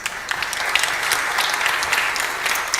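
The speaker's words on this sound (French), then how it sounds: "Je voudrais les applaudir aussi." Steady audience applause at a conference on keeping Casablanca clean, a continuous wash of many hands clapping at moderate volume.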